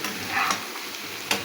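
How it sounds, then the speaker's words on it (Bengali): Spinach being stirred in a pan to cook off its water, with a steady faint sizzle and a couple of soft scraping strokes, one sharper scrape near the end; no voices. "এখন এই নাড়াচাড়া করে জল শুকিয়ে ফেললেই রান্নাটা হয়ে যাবে।"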